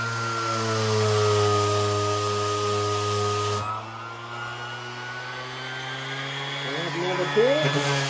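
Ridgid 3 amp corded 5-inch random orbital sander with 120 grit paper, steady high motor whine running throughout, loud and close, pitch dipping slightly partway as it meets the work.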